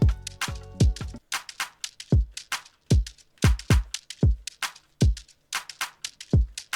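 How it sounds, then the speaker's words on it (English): A punchy electronic afrobeat drum beat made in FL Studio 20, with deep booming kicks and sharp claps in a steady repeating groove, loud and upfront with no voices. "I already laid the kick and a clap, so it sounds like this."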